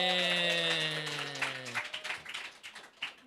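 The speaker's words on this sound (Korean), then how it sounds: "우리 송인도자에게 우리 감사의 박수를 줍시다" At a Korean church Sunday service, the congregation applauds the worship leader: scattered, moderately faint clapping that rises as sustained music fades out.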